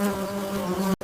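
Stingless bees flying over flowers, a close, steady buzzing hum of wings lasting about a second before cutting off abruptly.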